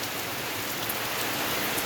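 Brief stretch of steady morning rain, a uniform close hiss of falling drops at constant loudness with no talk.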